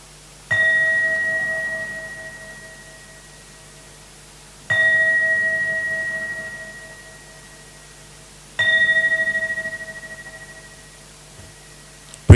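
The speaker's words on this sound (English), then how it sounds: "Let's listen to the sound of the bell." A Buddhist mindfulness bell is struck three times at slow, even intervals, each clear metallic ring sustaining and fading gradually before the next strike, heard alone in a quiet room.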